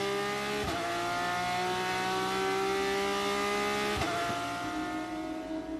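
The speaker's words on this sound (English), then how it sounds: "And now Ammermuller floors the throttle and goes for the race lead" A Porsche Supercup race car in Mexico City screams at full throttle, its engine note holding a high sustained pitch with two sharp gear-change dips, loud and close, no voices.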